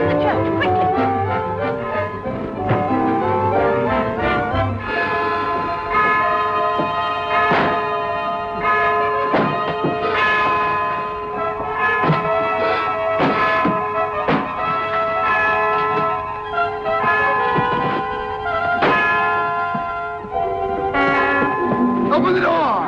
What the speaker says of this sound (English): What's that? The church bell.